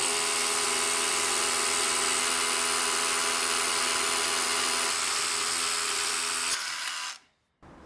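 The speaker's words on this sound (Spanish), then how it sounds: "vamos a llevarlo al límite con una broca de 3/4 y una pila de 2 amperes" A DeWalt DCH172B cordless rotary hammer pushes a 3/4 inch bit on a 2 amp battery, whining loudly and continuously for about six seconds before winding down abruptly and falling silent.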